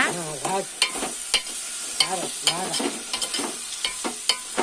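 A spoon stirs chili powder into a sizzling egg, dried prawn and tomato curry in a pan, with repeated close scraping strokes over steady frying hiss, while someone talks softly between strokes.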